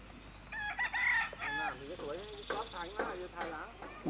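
A rooster crows loudly nearby, mixed with clucking and excited chattering voices throughout.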